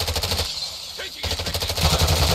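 Automatic gunfire in Warzone 2 on the Ashika Island map, rapid bursts of shots close and loud, breaking off briefly before resuming in a sustained rattling volley.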